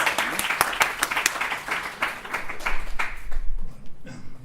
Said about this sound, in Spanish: Por favor, un fuerte aplauso para...